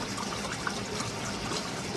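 Pumped water pouring into a pond, a steady rushing splash and trickle heard close and continuous, with no talking.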